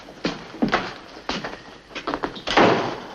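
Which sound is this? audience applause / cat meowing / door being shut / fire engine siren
door being shut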